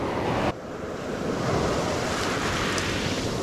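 Ocean surf breaks steadily on the beach at Stumps Pass after Hurricane Ian, a close, loud, continuous wash of churning water and wind with no talking.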